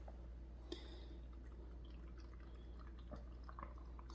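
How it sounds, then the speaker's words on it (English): Sugar-sweetened apple cider vinegar pickling brine is poured into a jar of pickled eggs, giving faint, quiet liquid trickles and drips with a soft splash near the start, over a low background hum. "All right, brine going in."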